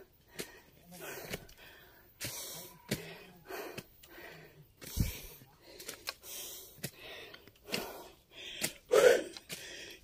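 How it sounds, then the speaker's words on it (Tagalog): Heavy, ragged panting from a hiker out of breath on a shaded forest trail in Iloilo province, with gasping breaths coming in irregular bursts close to the mic and a voice speaking between them. "Hingal na talaga ako."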